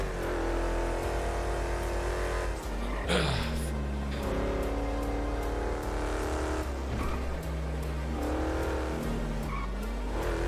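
A car in a GTA V roleplay session drives hard, its engine droning and shifting pitch through gear changes, with tire squeals and revving bursts; loud and continuous with no talk.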